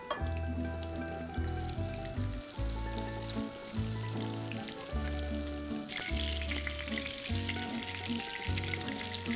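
Food fries in a hot pan to a golden crust, a continuous close sizzling hiss that grows brighter and louder about halfway through.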